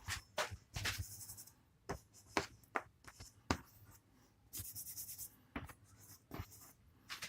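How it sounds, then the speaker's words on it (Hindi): Chalk writes on a classroom board in short scratchy strokes and taps, irregular and close, moderately faint. No talking is heard. "ये अपन दूसरे कलर की चौक से लिखते हैं इसको"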